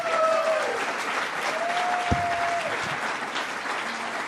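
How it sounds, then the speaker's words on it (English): Audience applause at a New York congestion pricing announcement, steady moderate clapping from a gathered crowd lasting a few seconds, with a brief thump partway through. "Let's give her one more round of applause."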